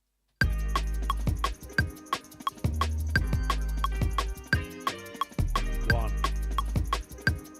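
Liquid drum and bass tune built around a chopped soul sample, with punchy kicks, snappy breakbeat drums and a deep rolling bass under warm melodic tones, playing steadily and loud throughout.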